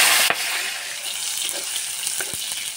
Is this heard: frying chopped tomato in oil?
yes